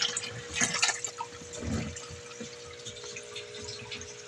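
Water is sucked out of a crayfish tank by a pump, giving a close, continuous gurgling and sloshing with a few louder surges near the start.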